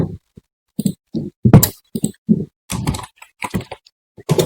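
Computer keyboard keys tapped in short irregular bursts while entering data into a Java NetBeans outdoor-gear rental application, close and clear with brief pauses and no talking.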